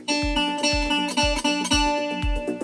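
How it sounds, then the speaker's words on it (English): Two musical tones in a 1:1 unison ratio sounding together as one pitch, struck repeatedly in a steady rhythm, each note ringing briefly before the next. "the 1:1 unison ratio sounds like this"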